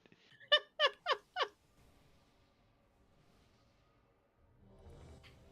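A cat gives four quick, bright meows in a row, close and clear, then falls silent apart from a faint background hum and a soft rustle at the end.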